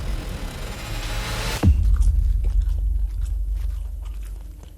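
Someone bites into tough, chewy garlic bread with one loud crunch, then chews steadily in close, moist, rhythmic mouthfuls that fade toward the end.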